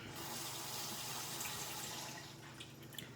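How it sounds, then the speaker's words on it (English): Faint, steady rush of tap water running into a sink while a makeup brush is dipped, a continuous quiet flow with small splashes and no talk. "Hopefully I keep the water running so I can keep just dipping my brush in the water."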